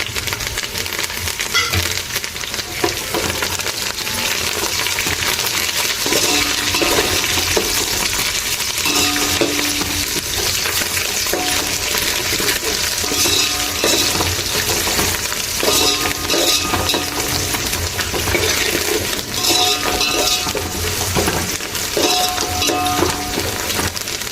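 Coriander and curry leaves fry in hot oil in a pan with a loud, continuous sizzle and crackle, broken by occasional clinks and scraping of a utensil against the pan.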